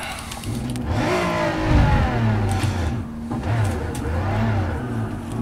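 Engine of a 2014 BMW M4 Gr.4 race car in a racing video game, spinning out at Spa-Francorchamps: a continuous loud engine note that rises and falls in pitch as the car slides and revs, with no talk over it.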